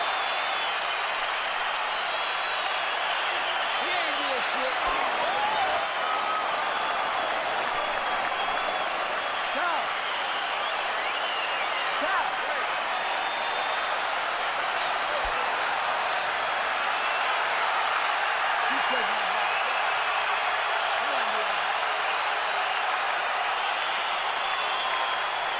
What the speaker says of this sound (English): those cheers you hear in the background are fans cheering the blood on Mayweather